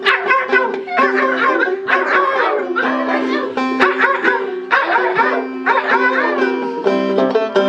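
A voice imitates puppies yipping, a rapid series of high, squeaky yelps and whimpers in quick bursts, close and loud.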